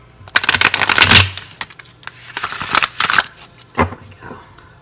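Large tarot cards are shuffled by hand in close, irregular bursts of riffling and slapping, loudest early on and then in shorter flurries, with brief pauses between.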